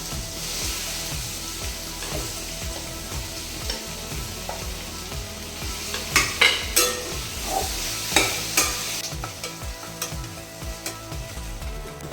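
Paste and potatoes frying in oil in a pan, with a continuous sizzle and rhythmic scraping strokes that grow louder and clatter in the middle, with no talking.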